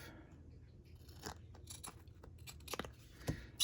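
Scissors snipping card paper for a handmade Valentine card, several quiet close cuts with a crisp rhythm, ending in a louder snip.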